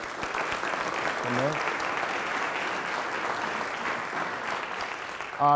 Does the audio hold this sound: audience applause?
yes